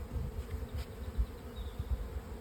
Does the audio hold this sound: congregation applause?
no